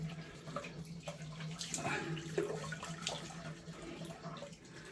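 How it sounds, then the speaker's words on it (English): Water from a shaving bowl splashes out as the bowl is emptied and refilled with fresh water, a steady, fairly quiet running and sloshing lasting several seconds with no talking. "Let's just empty this bowl out and get some fresh water in."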